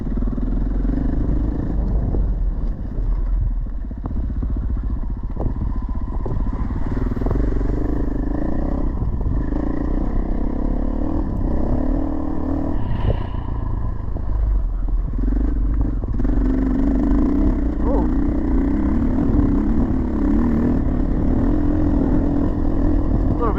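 Motorcycle engine runs continuously on a rough dirt track in mountain bush country, revving and easing with clutch work over uneven ground, loud and close with wind buffeting.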